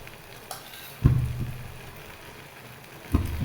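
A spoonful of desi ghee dropped into a thickening milk sweet mixture on the stove, with soft sizzling and two distinct stirring or sputtering bursts over a quiet low background.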